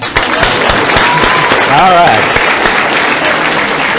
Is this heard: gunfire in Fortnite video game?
no